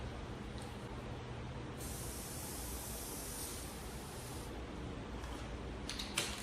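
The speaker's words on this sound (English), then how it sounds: "I'm going to tip the can over and spray it so that all the glue gets out of the nozzle" A can of Gorilla spray adhesive, tipped over to clear glue from the nozzle, gives a loud, steady aerosol hiss at close range, with a brighter, stronger burst through the middle and brief sputters near the end.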